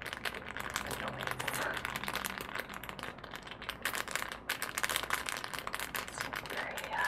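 A small plastic baggie holding a screen cleaner crinkles and rustles close up and quietly, with continuous irregular crackles and no talking.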